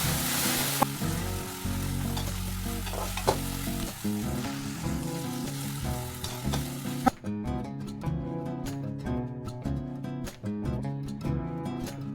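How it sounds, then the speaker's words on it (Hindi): Sweet corn and peas frying in a pan for pasta are stirred, with loud, steady sizzling and crackling close up and repeated scraping and clacking of the spoon against the pan. "हम अपने स्वीट कॉर्न और मटर को पहले अच्छे से मिक्स कर लेंगे।"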